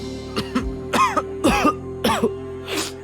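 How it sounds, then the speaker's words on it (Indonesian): A series of harsh coughs and throat-clearing bursts, about five in a row with short pauses, close to the microphone and no talking. "Masih batuk?"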